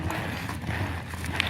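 A horse's hooves clip-clopping at a steady working pace during a training clinic, moderately close over a low ambient rumble, with no talk.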